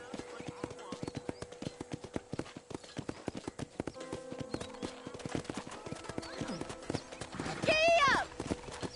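Horse hooves clip-clop in a quick, steady rhythm on a ranch in the video game Red Dead Redemption, close and clear, with a horse's whinny near the end and a voice speaking briefly.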